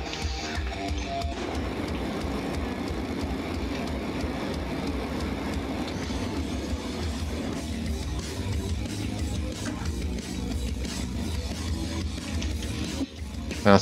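A train chasing the player in the motorcycle combat game Road Redemption gives a continuous loud rumbling rattle of rail wagons with clickety-clack, steady throughout with no speech.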